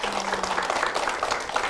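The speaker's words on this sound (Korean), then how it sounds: "큰 박수 부탁드리겠습니다." A church congregation at Yeongdo Church applauds together, a brief, even burst of many hands clapping, fairly soft and diffuse in a large room.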